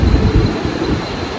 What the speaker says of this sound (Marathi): आता 2 मिनिटात गाडी हलल तर रेल्वेमध्ये बसून घेऊ.